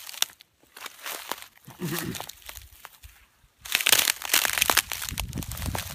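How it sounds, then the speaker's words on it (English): Footsteps crunching and snapping through dry pokeweed stalks and weeds in the southwest Missouri Ozarks, close bursts of crackling broken by pauses, with someone speaking briefly. "Crunching all that is polk stalks."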